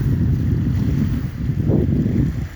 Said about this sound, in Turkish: Rüzgar denizden esiyor.